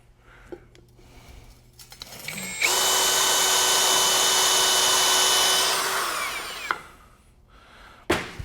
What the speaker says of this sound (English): Good thing I have a cordless drill.